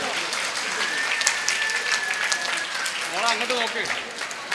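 Applause from a family gathering audience fills the room while mothers are draped with shawls, steady clapping running under overlapping voices and a brief whistle-like tone.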